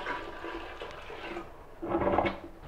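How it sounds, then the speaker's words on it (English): A toilet flushes in a rush of water that swells near the end and then fades, over a low, steady background. "And then that water can be dumped down the toilet."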